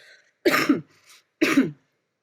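Two harsh, close coughs separated by a short pause, with a soft breath between them.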